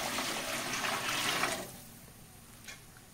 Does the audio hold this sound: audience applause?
no